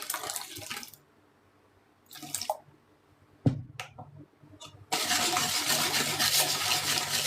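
Hot water is poured into a bowl of cake batter made with one egg and sugar in a home kitchen, short splashes and clinks and then a steady loud pouring stream near the end.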